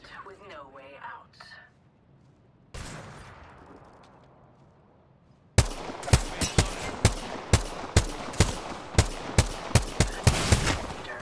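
Rapid bursts of video game gunfire crack out in a steady, evenly spaced series of loud shots, following a quieter stretch of faint voices and a rushing whoosh.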